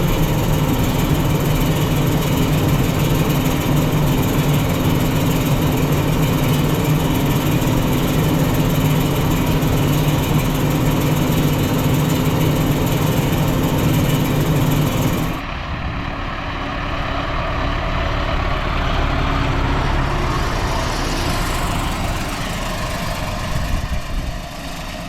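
Tractor engine running barely above idle at 540 PTO rpm while spreading fertilizer in late spring, a steady, loud, low droning hum throughout that drops in pitch and thins midway, with no talk.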